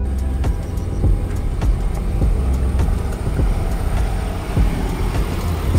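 A Toyota Land Cruiser 300 ZX crawls along in crawl mode, a loud, close, steady low engine and drivetrain rumble with irregular knocks and clunks from the terrain throughout.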